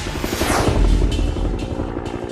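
Helicopters landing at Fürstenfeldbruck airfield, a steady loud rotor drone with low rhythmic thumping and a rising whine, continuous throughout with no voices.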